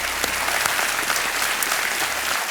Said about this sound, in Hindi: एक बार फिर तालियां बज जाएं इनके लिए